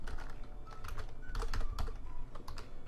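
Typing on a computer keyboard while writing expressions in Maya 2015, a close run of quick, uneven key clicks and taps with no voices.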